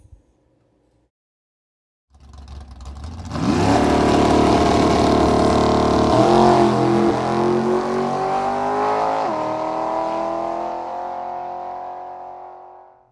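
A 1971 Plymouth Cuda engine starts after a brief quiet moment and runs loud and close, rising in revs and then settling into a steady rumble that slowly fades.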